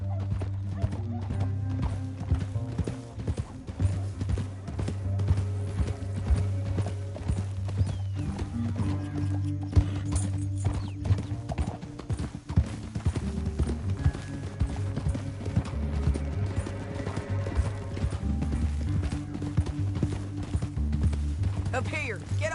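Horses gallop through a canyon in the video game Red Dead Redemption 2, with steady rhythmic hoofbeats and occasional whinnies under voices and a game soundtrack.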